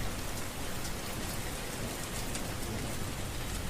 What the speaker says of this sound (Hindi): लेकिन बारिश अभी भी नहीं थमी थी।